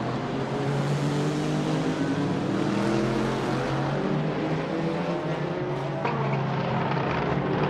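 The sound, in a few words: race cars driving in Daytona 24h racing video game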